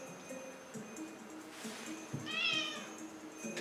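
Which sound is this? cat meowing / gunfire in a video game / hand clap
cat meowing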